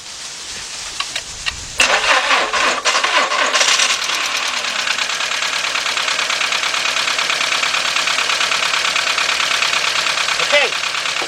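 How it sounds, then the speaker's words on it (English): A Volkswagen with a cylinder misfire cranks briefly, fires and settles into a close, loud idle with a rough, pulsing, uneven beat that continues steadily. "Let's go start this up."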